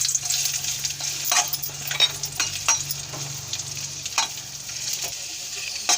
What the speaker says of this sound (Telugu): ఇప్పుడు కిస్మిస్ కూడా వేసి వేయించుకుందామండి